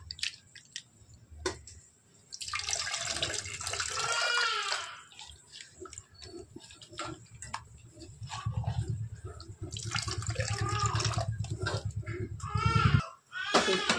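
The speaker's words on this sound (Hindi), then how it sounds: "इसमें पानी भी ऐड करेंगे।" Water poured into a pot of meat curry during cooking, with splashing, pouring bursts and bubbling in a home kitchen, coming in two main pours separated by quieter stirring and sizzling.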